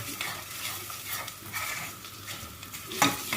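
Flour roasting in hot oil in a pot for tarhana soup gives a steady sizzle, while a spoon scrapes and stirs it in repeated strokes, ending with a sharper clink against the pot.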